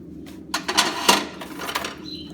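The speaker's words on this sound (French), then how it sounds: "je serre le clou, puis je coupe les pointes" A farrier's pincers clip the protruding tips of horseshoe nails on a horse's hoof: a few sharp metallic snips and clicks spaced irregularly, close and fairly distinct over a low background.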